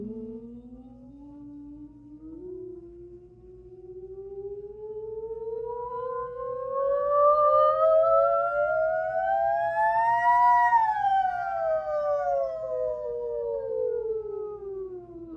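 A human voice imitates a siren on an ooh vowel, sliding smoothly from low up to a high peak and back down in one long sustained glide, clear and alone over faint background hum.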